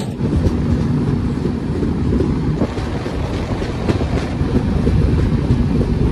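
A Vistadome tourist special train running slowly through dense jungle between NJP and Alipurduar, heard from inside as a loud steady low rumble with faint rhythmic wheel clatter and wind noise, no voices.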